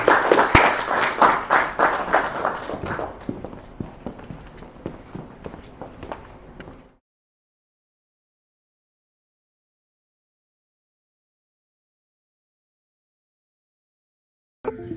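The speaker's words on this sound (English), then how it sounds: "All right, let's give them a round of applause." A burst of applause from a crowd, loud at first then thinning out and stopping, followed by silence.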